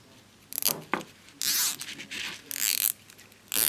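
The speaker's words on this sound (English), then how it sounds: "take a couple of cable ties and zip around there with them" Cable ties zipped tight around a bag in several separate ratcheting bursts, each a short rasping buzz with pauses between, close and clear, no talking.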